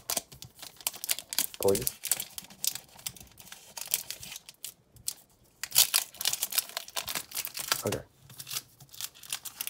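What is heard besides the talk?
cutting open card packs with scissors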